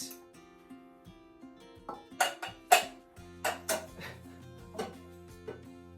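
Metal pot lids are handled and set down in a kitchen. Several sharp clinks and clatters come close and fairly loud in an irregular sequence, with quieter knocks in between.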